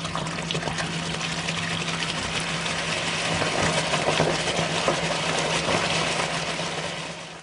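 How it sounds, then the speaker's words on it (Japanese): Hitachi BD-V5500 washer-dryer flushing water into its drain trap after the drying cycle, a steady rushing trickle of water over a low constant hum, even and continuous throughout. "乾燥運転終了後に排水トラップに水を貯めるため水を流している音です。"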